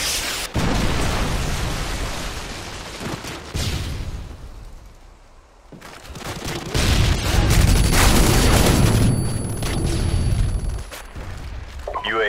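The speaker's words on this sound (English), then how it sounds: "Predator missile inbound" Predator missile strikes in Modern Warfare 2 team deathmatch on the Wasteland map set off loud, heavy booming blasts with rumbling debris, then a lull before more explosions and gunfire crackle close by.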